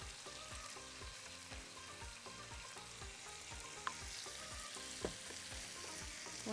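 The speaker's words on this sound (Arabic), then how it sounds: "ونبتدي نشوحها." Chicken sautés in a pan with a close, steady sizzle, punctuated by a regular series of soft stirring scrapes and an occasional sharper clink of the utensil.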